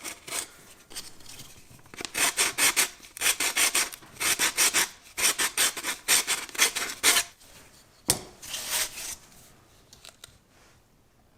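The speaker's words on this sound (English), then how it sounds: "So I'm going to sand this a little farther down and then add a chamfer." Sanding a chamfer onto the bottom edge of a pop-up sink drain, heard as bursts of close, raspy rubbing strokes in quick rhythmic groups with short pauses between them, no voices.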